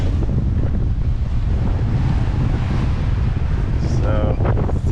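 Strong wind buffets the microphone aboard a sailboat beating upwind on the Pacific, a loud continuous roar mixed with rushing water, and a voice cuts in briefly near the end.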